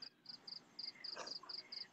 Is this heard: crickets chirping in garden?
yes